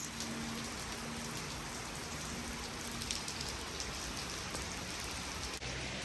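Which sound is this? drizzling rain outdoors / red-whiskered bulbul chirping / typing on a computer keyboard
drizzling rain outdoors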